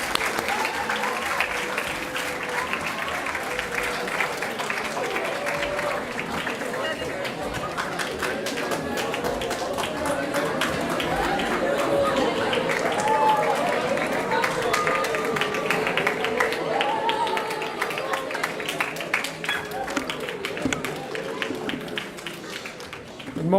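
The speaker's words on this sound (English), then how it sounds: "Let's welcome him with a round of applause" An audience at a morning conference in Downtown Doral applauds steadily for over twenty seconds, a dense, even wash of clapping from a sizable crowd with a faint murmur underneath.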